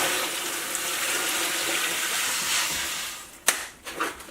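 Steady rushing of 8 quarts of water poured in a continuous stream for several seconds into a roaster oven pot with vegetables, close by, ending with a few splashes and clunks.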